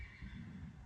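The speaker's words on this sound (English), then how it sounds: "I hear horses screaming all over the place." A horse neighs amid low, rumbling background noise, with more horses heard crying out all around in a chaotic scene; the whinny is moderately loud but partly blended into the dense low-end din.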